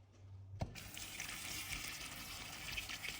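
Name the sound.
water running from tap, checking water pressure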